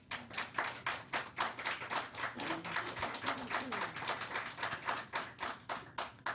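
An audience at a school board meeting applauds in a dense, steady burst of clapping hands that carries on evenly for several seconds, moderately close and with no talk over it.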